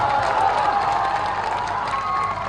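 Outdoor political rally crowd in Saharsa clapping and cheering, a broad sustained roar of many people with shouts mixed into the applause.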